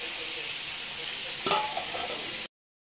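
Pointed gourd crackles and sizzles steadily as it fries in a hot pan, with a brief scrape of a utensil stirring midway before the sound cuts off.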